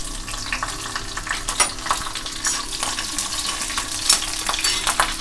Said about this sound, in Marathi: तेल तापलं आहे, आता आपण मिरच्या पण घालूया.